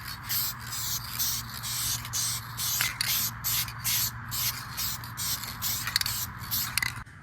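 A steady hiss of an aerosol can dusting Universal Silver Metallic paint in a light mist over a cosplay Juggernaut helmet, close and continuous, pulsing slightly with each pass over about seven seconds.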